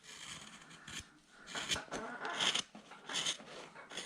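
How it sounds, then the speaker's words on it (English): A woodturning skew chisel slides across spinning wood on a lathe, giving repeated close scraping and rasping strokes that rise and fall in short bursts. "I can take this skew and kind of slide it across."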